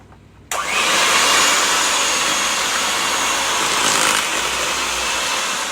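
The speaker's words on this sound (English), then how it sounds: "I'm just going to be whisking it for about another minute on a low spin." An electric mixer switches on abruptly and whisks icing sugar and vanilla on low speed with a steady, close, loud whirring hiss that holds for several seconds without talk.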